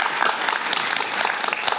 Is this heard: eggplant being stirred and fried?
no